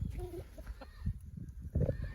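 Fighting rooster in a village setting, giving a few short, low clucks and throaty sounds close by amid light background noise.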